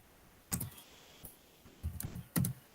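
A few bursts of keystrokes on a computer keyboard, quiet clicks in small clusters with short pauses between them, no voices.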